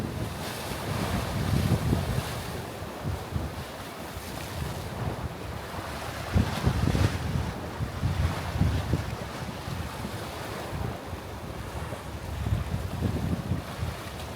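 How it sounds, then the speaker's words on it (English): Ocean waves surge and break on the rocks along the Dallas Road waterfront near Steve Fonyo Beach at high tide, a steady roar of surf heavily buffeted by wind noise on the microphone, with no voices. "watching the waves"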